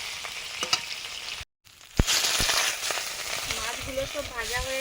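Pond fish fry in oil in a pan, giving a continuous sizzle and crackle close by, broken by a short pause and a sharp clank partway through, with a voice speaking briefly near the end.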